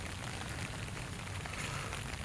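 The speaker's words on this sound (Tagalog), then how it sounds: "hindi ako makapaglinis ngayon kasi malakas ang ulan heavy rain ayun" Heavy rain falls steadily on a vegetable garden with gourd plants, a dense, continuous hiss of drops at moderate distance with no voices.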